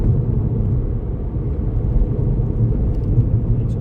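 Car engine pulling steadily uphill on a rural UK country road in fourth gear at around 40 mph, a continuous low droning rumble with road noise, loud and even throughout without talk.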